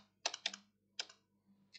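Crisp keystrokes on a computer keyboard while C code is entered, a few quick clustered clicks with short pauses between, close and fairly quiet with no talk.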